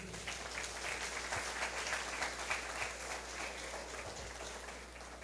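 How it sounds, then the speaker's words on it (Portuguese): Church congregation clapping together during a sermon, a steady wash of applause heard from a distance at low level for several seconds, with a few faint murmurs underneath. "Aplauda ao Senhor."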